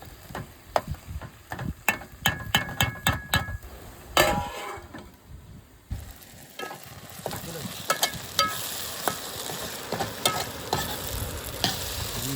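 Tomatoes and onions sauté in a pan for a dried fish sambal, with sharp metallic clinks and taps of a spatula against the pan over a low sizzle, first sparse and spaced, then a denser continuous frying.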